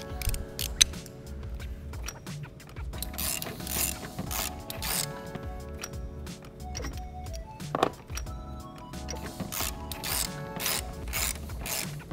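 Rapid clicking of a hand ratchet backing out 18 mm transmission mount bolts on a VW/Audi MK7 GTI-type car, close-up repeated pawl ticks in uneven bursts with occasional metallic clinks, no talking.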